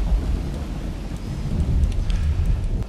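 Lightning strikes in The Universim video game crack into deep rolling thunder amid a steady rain wash, the low rumble swelling and continuing loudly throughout with no talk.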